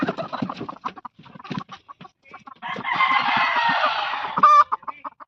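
Newly arrived chickens on a farmhouse plot cluck in short, close bursts, with a louder stretch of crowing and squawking in the middle, all heard without talk.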